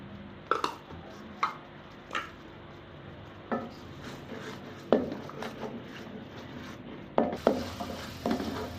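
Chunks of potato dropped into a pan of frying masala, with a few soft clatters and scrapes of a spoon over a faint, steady sizzle.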